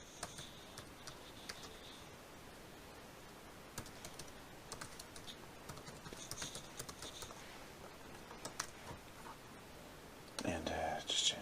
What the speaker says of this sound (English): And we'll just type this one in.